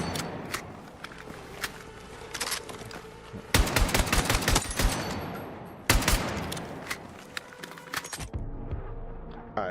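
Bursts of rapid gunfire crack from a firing range in a video game, a dense volley around the middle followed by another loud string of shots, with quieter clicks and footsteps in between.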